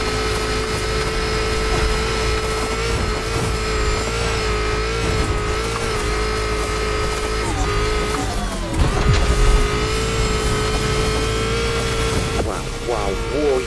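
Volkswagen ID Buggy concept car driven in the racing game The Crew Motorfest, a steady electric-motor whine and road rumble with a brief swell partway through, loud and continuous under a speaking voice.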